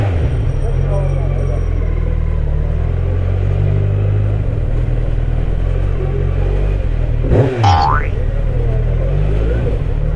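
A Kawasaki Z900 superbike engine idles low and steady in a Haridwar market, then gives a sharp throttle blip around the middle, a quick rising rev that falls back to idle.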